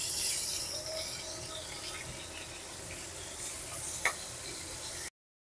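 Pieces of pointed gourd (potol) fry in hot oil in a home vegetarian Bengali kitchen, giving a steady close sizzling hiss that eases slightly over the seconds, with one sharp pop near the end.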